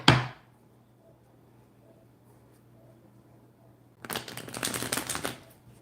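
A sharp snap of a tarot card, then near silence, followed by a rapid riffling flutter of tarot cards being shuffled close by for about a second and a half.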